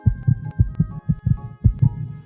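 Steady human heartbeat with paired lub-dub thumps in a regular rhythm, about four double beats, loud and close with a low throbbing tone and no other sound.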